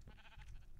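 A single short sheep bleat from Minecraft, played on an FTB modpack server, faint and brief with no talk over it.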